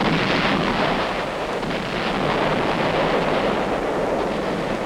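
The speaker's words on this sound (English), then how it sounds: "Ships of the UN fleet fire point blank at the island." Naval guns of UN fleet ships bombarding Wolmi island at dawn, heard as a continuous loud, rumbling roar of distant blasts and wind-like noise with no distinct individual shots.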